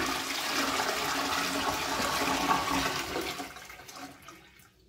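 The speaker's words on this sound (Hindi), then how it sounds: "अभी फ्लश करना है?" A flush tank on a western-style toilet empties with a loud rush of water that holds steady for about three seconds, then fades away as the tank drains.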